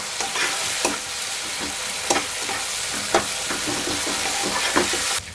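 Masala for mutton ghee roast sautéing in a pan, a loud continuous sizzle with regular scraping stirs of a spatula every second or so, close and dense.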